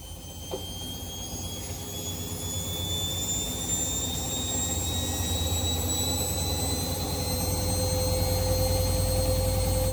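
A repaired appliance drum spins up with a steady, loud high-pitched whine and rushing roar like a jet engine, pitch slowly rising as it gains speed over a continuous mechanical hum, with no talk.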